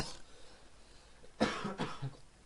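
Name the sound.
coughing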